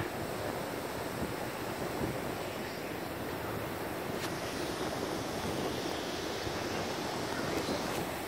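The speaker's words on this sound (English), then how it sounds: "Look, the river." The river in San Antonio in freezing weather gives a steady, fairly quiet rushing wash mixed with wind noise on the microphone, and there is no talking.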